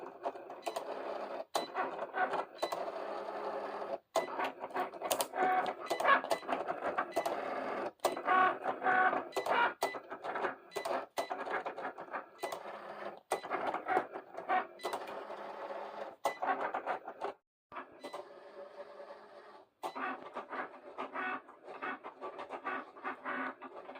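A Cricut cutting machine works through a design, giving a steady, quiet mechanical whir with rapid clicking and short pauses as the carriage moves, heard alone with no talk.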